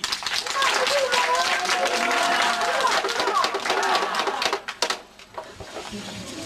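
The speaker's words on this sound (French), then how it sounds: "Nous pouvons applaudir." Applause from an audience at a Gabonese political party gathering, a dense burst of clapping mixed with voices that carries for several seconds, then breaks off abruptly and leaves a quieter murmur of the crowd.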